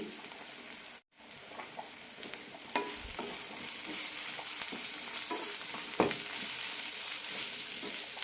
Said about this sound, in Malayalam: മസാല നന്നായി മൂപ്പിച്ചെടുക്കാം